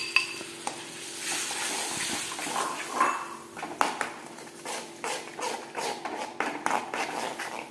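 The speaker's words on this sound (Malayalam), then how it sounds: "കുറച്ച് വെള്ളം ഒഴിക്കാം." Water splashes into a hot pan of momo filling with ginger, garlic and tomato, setting off a close sizzle amid repeated metallic stirring scrapes and clatter.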